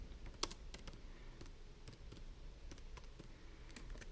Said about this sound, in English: And then you type it right here.